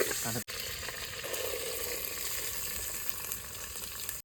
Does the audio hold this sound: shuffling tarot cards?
no